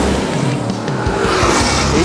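Drag racing cars with differing suspension setups launch hard down the strip, a short burst of roaring engine and tire noise rising close and loud.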